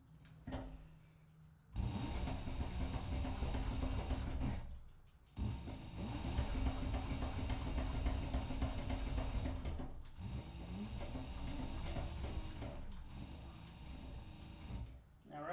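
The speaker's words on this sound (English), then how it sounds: "I want to make sure that my sewing machine walks up on that exterior pocket" A sewing machine stitches a leather-style carry-all clutch bag in bursts, running steadily for several seconds, pausing, then resuming, with a few clicks and handling noises between runs.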